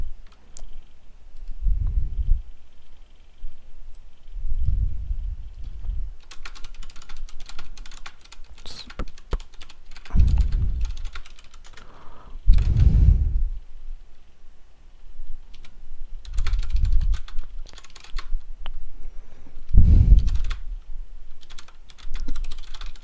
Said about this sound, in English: Sorry, I'm typing like an idiot.